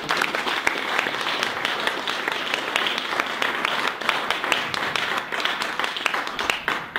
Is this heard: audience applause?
yes